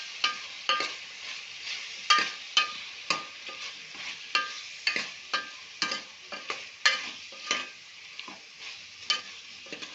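Chili powder being stirred into a brinjal and potato curry in a pan, a spoon scraping and knocking in a steady rhythm of sharp strokes over a soft sizzle, close and clear with no talk.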